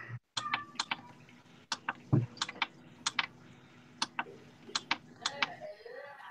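A reef aquarium doser is adjusted with a series of sharp, small clicks, irregularly spaced and close, over a quiet room with a faint low hum.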